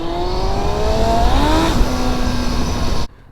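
A Yamaha R1 motorcycle engine, freshly restored with cleaned carburettors, revs loud and close, its pitch climbing and holding high for about three seconds before cutting off abruptly.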